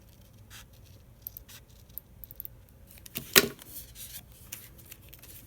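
Scissors trim paper for a handmade budget journal with book ties and hinges, producing one crisp, close snip among soft paper rustles and small scattered ticks in an otherwise quiet room.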